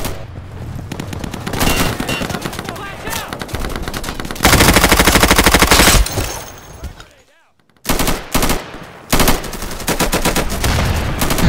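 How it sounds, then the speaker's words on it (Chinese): Machine gun fire comes from a second floor in the Insurgency video game, with long, loud, rapid automatic bursts broken by a brief silent gap, then more sustained firing, with voices calling out in places. "二楼啊，二楼机枪压制了"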